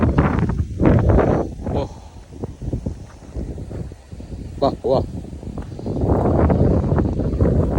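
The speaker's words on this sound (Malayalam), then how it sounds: "നല്ല കാറ്റടിക്കുന്നു" Strong wind gusts buffet the microphone beside a large open pond, a rough low roar that swells at the start and end while people talk over it.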